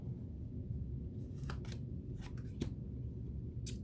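Tarot cards being shuffled and drawn: a few soft, papery riffles and flicks, faint and close, spaced apart over a low steady room hum.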